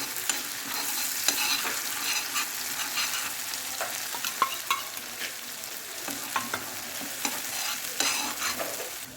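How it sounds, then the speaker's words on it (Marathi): Thecha, a coarse green chili paste, frying in hot oil with a steady bright sizzle and crackle, punctuated by light stirring scrapes and taps, close and continuous with no talking. "आपण याला अर्धा मिनिट बस फ्राय करून घेते या तेलामध्ये"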